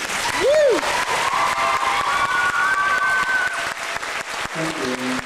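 Sustained audience applause with scattered cheers fills an auditorium at a charity wish event in Moncton, steady and dense throughout, with a brief whistle-like voice rising early and a few tonal sounds near the end.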